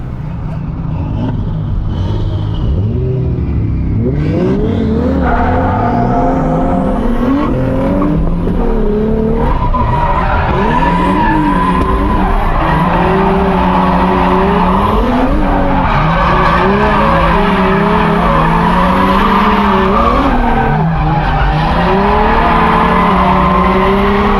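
A drift car with a stiff rear end revs hard and accelerates while its tires squeal and skid continuously at a drift practice session, loud and close, with engine pitch rising and falling and a voice faintly underneath.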